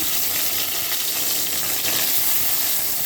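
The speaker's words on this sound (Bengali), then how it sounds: "মাছগুলো আমি ভেজে নেব।" Salted fish pieces sizzle and spit steadily in hot oil in a pan, a dense, loud, continuous frying hiss with no talk.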